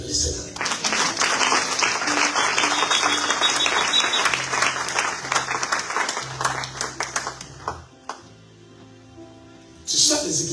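Church congregation applauding and cheering for the Lord, a dense sustained burst of clapping mixed with voices that carries on for about eight seconds, fades out, then briefly swells again at the end.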